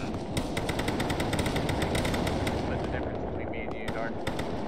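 Rapid bursts of gunfire in Arma 3 crackle continuously through a forest firefight, with dense, steady automatic shots and distant reports layered together, and players talking over the shooting.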